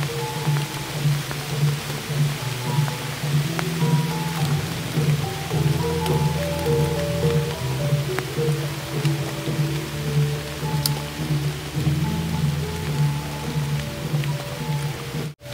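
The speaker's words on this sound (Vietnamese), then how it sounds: "Mưa to luôn rồi cả nhà ơi." Heavy rain pours down in a cemetery beside a palm tree, a dense steady patter and drumming on surfaces, loud and close throughout, with no voices.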